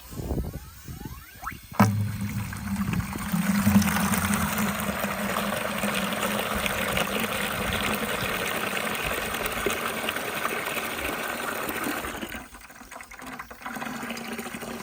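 Water pours and rushes steadily into a container outdoors on an icy homestead, a continuous close wash that starts after a sharp knock and then thins near the end.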